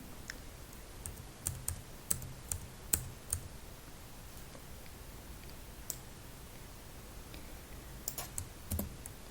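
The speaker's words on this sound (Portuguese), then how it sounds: "Vou dar um enter aqui." Quiet, close key presses on a computer keyboard while working in R, tapping in scattered clusters over a steady low room hiss, including a firmer press for enter, no voices.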